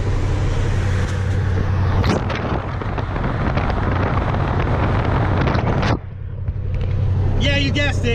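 A 1998 Firebird Formula cruising on the highway with the window down, a loud roaring blend of engine drone and wind rush that cuts sharply quieter near the end as a voice talks over it.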